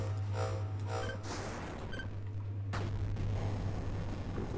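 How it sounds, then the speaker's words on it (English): Explosions and artillery fire in the 8-Bit Armies strategy game: a few muffled booms and bursts layered over a steady low game rumble, with a sharp blast near the end. "We can now fire more of these before the explosion is even gone"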